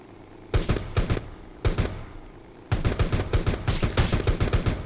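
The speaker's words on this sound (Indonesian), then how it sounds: "Bro, gue dengar suara tembakan tetet gitu, Bro." Video game gunfire: short bursts of rapid automatic shots, two brief volleys followed by a longer sustained rattling burst, loud and close with no talk over it.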